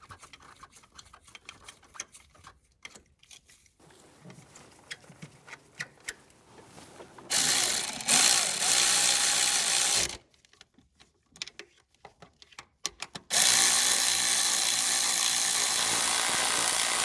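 Ratchet clicking as EGR valve studs are snugged down on a 2006-2011 Cadillac DTS: quick bursts of fine close clicks between pauses, with louder broadband stretches of noise in between, no speech.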